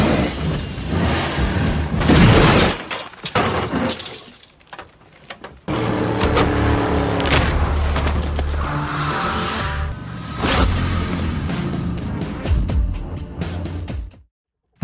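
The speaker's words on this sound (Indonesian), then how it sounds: "Frank berhasil membuat mobil yang dikendarai Pachenko terbalik" Film action scene of a car chase with gunfire ending in a car overturning: loud engine roar, skids and crashing impacts, with a sharp shattering burst near the start and a brief drop before the sustained rumble returns, then cuts off.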